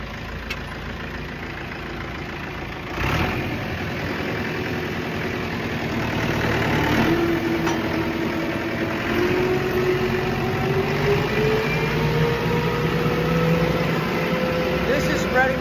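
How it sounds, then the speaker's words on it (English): A tractor engine runs a PTO-driven hay tedder that spreads cut hay to dry, giving a steady, close mechanical drone with a rise in power partway through and a whining tone that climbs as the machinery turns. "PTO will turn the yellow shaft there, which then in turn will make those turn."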